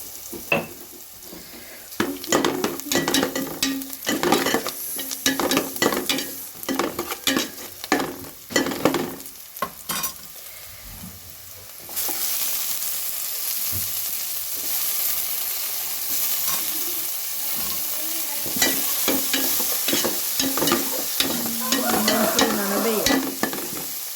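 Tomato stirred and fried in a pan, steady sizzling throughout with repeated scraping and stirring strokes in the first half, then a denser continuous fry, no voices.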